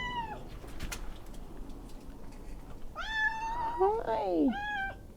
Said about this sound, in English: Who needs Stonejourner when a cat comes to visit you?